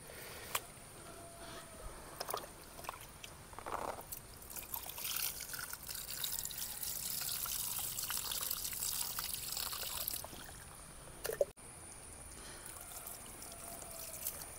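Water pours and trickles fairly quietly and close by as raw beef is washed in a village kitchen in Kerala, with irregular splashes and dribbles continuing throughout and no voices.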